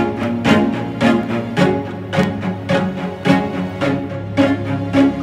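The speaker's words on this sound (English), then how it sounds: "A bunch of layers of these little bit suspended pizzicato and staccato strings that I added in the first" Layered suspended pizzicato and staccato strings from a pop pre-chorus, short plucked and bowed notes pulsing in an even rhythm over a sustained low bed, clear and upfront without voices.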